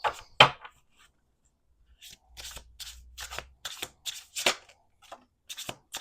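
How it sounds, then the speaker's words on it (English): Cards are shuffled in short, crisp bursts of riffling and snapping, separated by brief quiet gaps, close and fairly soft. "I'm going to do one more shuffle."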